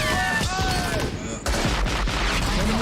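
Heavy 20 millimeter gunfire from a battle scene in the 1998 war film Saving Private Ryan: dense, rapid booming bursts mixed with battlefield noise and shouting voices, loud and continuous throughout.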